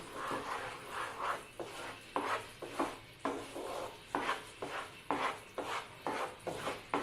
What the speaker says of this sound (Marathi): पाक असा हलवत राहायचा आहे